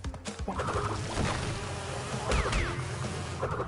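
A bee buzzes in the Crash Bandicoot video game, a faint, wavering drone that swoops up and down in pitch as it moves around, alone with no voices, over soft game background sound.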